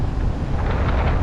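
Steady wind blowing across the microphone on a greenbelt bike trail in South Portland, Maine, a continuous low buffeting rumble with gusts, loud and close, no voices.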